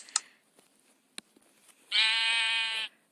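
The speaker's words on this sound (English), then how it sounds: "Oh, they had a baby little sheep." A baby sheep in a video game gives one short, bright bleat near the end, loud and close after a few faint clicks and taps.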